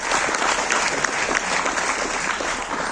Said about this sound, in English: So I would like you all to give a huge round of applause for sir.